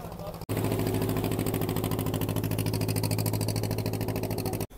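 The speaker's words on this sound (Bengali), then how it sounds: "একদম বড় বড় জাহাজ, মাছ ধরে যে জাহাজগুলো" Large fishing boat engines rumble at Digha Mohana with a loud, steady, low drone and rapid pulsing beat that holds for several seconds before cutting off abruptly.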